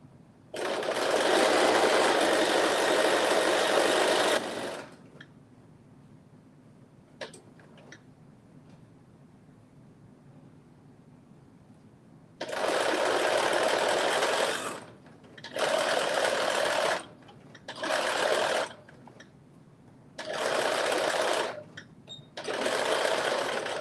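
A home sewing machine stitches a garment seam in bursts, first one long continuous run, then after a quiet stretch with faint clicks, several shorter runs with brief pauses between them. No one speaks.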